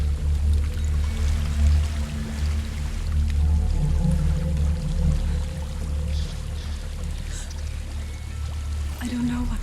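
A waterfall in Hellblade: Senua's Sacrifice, heard as a steady, low rushing and pouring of water, with whispering voices over it.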